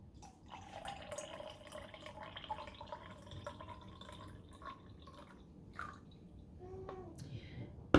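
Milk pours from an Elvie breast pump container, a quiet trickle with soft drips and faint splashing that runs on for several seconds.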